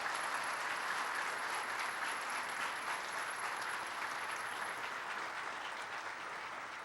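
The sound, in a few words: audience applause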